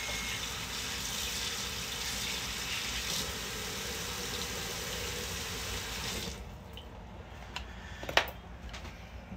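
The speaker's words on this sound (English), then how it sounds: "Give this a quick rinse." Kitchen tap water runs steadily over a dish being rinsed in a sink, a broad constant splashing rush that cuts off abruptly, followed by a few clinks and a knock as the dish is handled.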